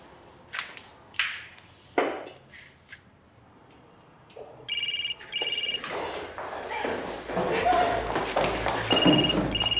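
A telephone rings in repeated electronic bursts, fairly close, after a few scattered thumps, with background noise and a voice mixed in.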